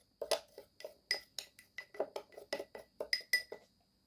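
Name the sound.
mixing dry ingredients with turmeric powder in a bowl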